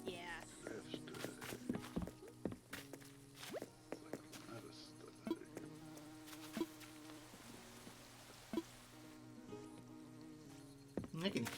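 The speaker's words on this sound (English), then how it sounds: "I can hear the honeybee buzzing." Buzzing of a honeybee in the Animal Crossing video game, a steady insect drone running through the whole stretch alongside game sounds, soft footsteps and quiet talk.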